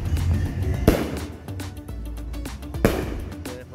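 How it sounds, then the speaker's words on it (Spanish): Firework rockets at the San Antonio de Padua town fair in Langue Valle, Honduras: two sharp, loud bangs about two seconds apart, each cracking out over a steady outdoor rumble. "Ustedes pueden ver los cohetes ahí, es de la feria aquí."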